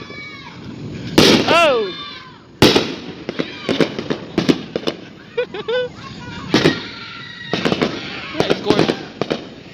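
Fourth of July fireworks burst in a loud, irregular volley of booms, crackles and whistling rockets, some close and sharp, others echoing further off, while a person exclaims excitedly between blasts.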